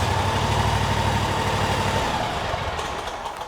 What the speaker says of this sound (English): But this Kawasaki engine starts wonderful.